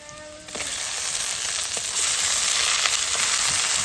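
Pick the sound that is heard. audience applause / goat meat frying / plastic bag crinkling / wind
goat meat frying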